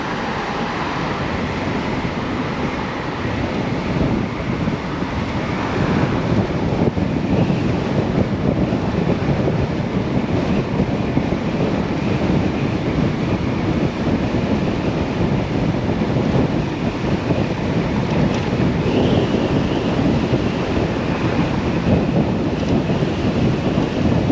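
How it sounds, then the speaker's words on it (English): Steady, loud wind roar buffeting the microphone throughout a night ride on a cheap 3000 W Engtian TDPX electric motorcycle, with no motor noise standing out and nobody speaking. "All you can really hear is the noise of the wind."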